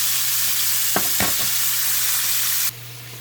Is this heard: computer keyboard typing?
no